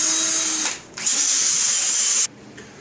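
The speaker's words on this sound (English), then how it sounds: "now I'm just gonna take my sander. I'm gonna sand it all out." A power sander with a sanding disc works a wooden slab for a rustic bench, a loud high whirring grind that cuts off briefly, starts again, runs steadily and then stops, close up and alone.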